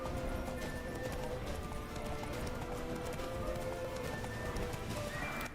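Roach, a horse in The Witcher 3, gallops in a steady drumming rhythm of hoofbeats under game music and ambience, moderately loud and continuous.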